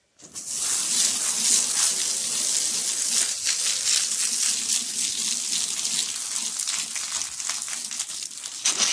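Water runs steadily from a newly installed tap, a constant hissing splash that starts abruptly and continues close and uninterrupted, with no voices.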